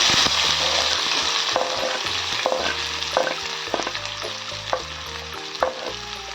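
Mustard seeds and cumin sizzle in hot oil, a loud, dense frying crackle with sharp pops scattered through it and a few low knocks as the pan is stirred, with no voices.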